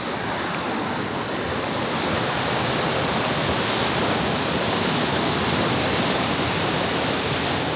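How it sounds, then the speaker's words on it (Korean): Wind-driven sea waves wash continuously against a quiet rocky shore on Jeju, a dense, steady roar of surf with a hiss of wind and no voices. "바람이 몰고 오는 파도."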